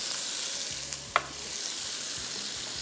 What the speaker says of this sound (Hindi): इसको फ्राई किया, मिक्स किया